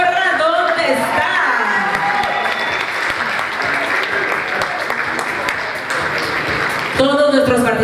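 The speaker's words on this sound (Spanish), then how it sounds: "Un aplauso y la porra, ¿dónde está?" Audience at a singing competition final applauds and cheers a contestant, loud and continuous, with voices calling out over the clapping.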